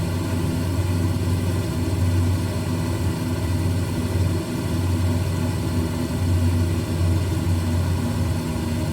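Propeller engines of a Lockheed Electra 10A drone steadily on approach in a cockpit, a constant loud hum with slight swells in power and no talking heard.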